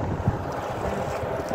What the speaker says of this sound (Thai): บรรยากาศลมแรงนะเขาว่ามันจะมีฝนตกนะแต่ไม่รู้ว่าจะมีไม่มีแต่ลมแรงมากๆ